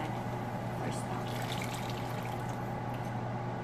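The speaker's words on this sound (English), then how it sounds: "Half a cube of chicken bouillon I melted in my hot water, and that's what I'm gonna add for stock" Hot chicken bouillon stock, half a cube dissolved in water, pours steadily into a pan of red lentil dhal, a soft continuous liquid trickle heard up close at low level with a faint steady hum underneath.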